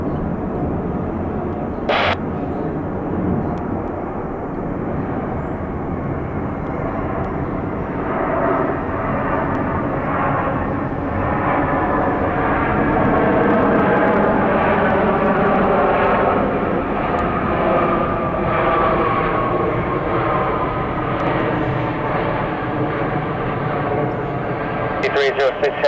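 A Delta airliner's engines roar steadily for the whole stretch while landing on runway 26 right at Atlanta airport, loud and broadband with a slow swell, with a voice heard faintly underneath.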